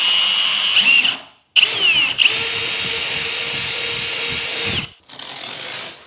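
A power drill with a larger bit bores a hole, whining in several loud, steady bursts separated by short pauses, close by and alone.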